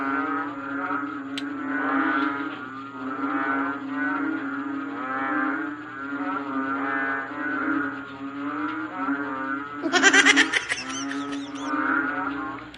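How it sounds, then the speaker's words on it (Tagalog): Loud, continuous chorus of frogs croaking close by, overlapping calls with a steady pulsing rhythm and no talking. "hindi ako makatulog guys kasi sobrang ingay ng mga palaka"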